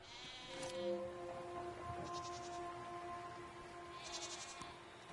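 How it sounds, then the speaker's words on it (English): Goat-like creatures in a video game bleat a few times, short nasal calls at a moderate distance over a faint steady tonal background. "What are these strange goat-like creatures? Are they simply goats?"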